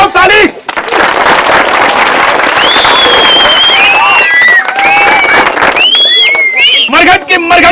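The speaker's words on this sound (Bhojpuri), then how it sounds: "इसी बात पर बजाओ ताली।" A live comedy show audience bursting into loud applause and cheering, with shrill whistles rising over a continuous wash of clapping and crowd noise that carries on to the end.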